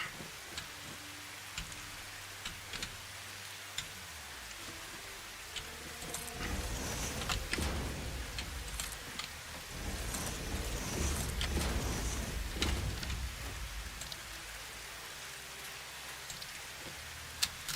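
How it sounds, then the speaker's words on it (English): Steady video game rain patter with scattered drops tapping, swelling a little louder in the middle, no voices. "It's raining again."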